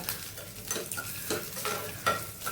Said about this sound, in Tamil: கை விடாமல் வதங்கணும்.